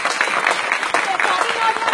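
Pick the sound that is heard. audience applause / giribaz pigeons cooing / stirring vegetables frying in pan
audience applause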